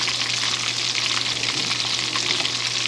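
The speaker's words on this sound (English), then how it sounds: "making them crunchy, frying the tortillas" Corn tortillas for taquitos sizzle and crackle in hot oil, a loud, steady frying hiss with a low hum beneath and no talk.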